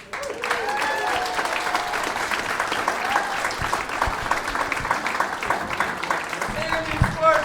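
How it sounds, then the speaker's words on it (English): Comedy club audience applauding after a stand-up comic's set, sustained dense clapping with cheers and whoops layered over it and a host's voice cutting in near the end. "Give her a big round of applause"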